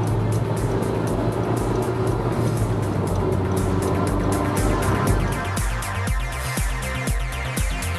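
A Honda Civic Type R engine pulls hard under acceleration, a loud droning roar that cuts off as it shifts from third to fourth gear and then rises again with pulsing rhythm, heard from inside the car without talk.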